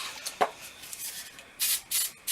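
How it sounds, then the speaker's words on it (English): A comb backcombs hair in short brushing strokes, a few soft rasping swipes close up with brief pauses between them, and no speech. "And you're just gonna back comb"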